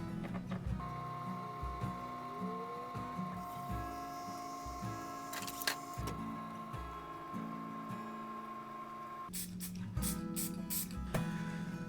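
An airbrush sprays clear coat over a painted largemouth bass lamp, giving short hissing bursts near the end that stand out against a steady hum and scattered clicks.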